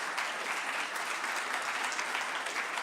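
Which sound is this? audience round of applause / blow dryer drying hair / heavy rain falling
audience round of applause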